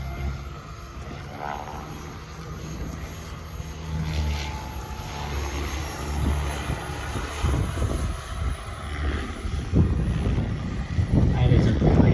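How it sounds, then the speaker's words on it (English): Giant RC Heli-Factory Eurocopter Tiger helicopter flying at a demo, a steady whirring rotor and engine drone that grows louder as it approaches, with people talking over it. "That is a pretty helicopter."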